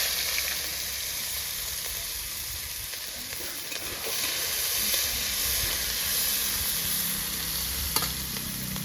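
Chopped onion and garlic sizzle loudly in hot oil tempered with dried red chilli and whole cumin for masala dal, a steady close frying hiss with stirring scrapes throughout, no voices.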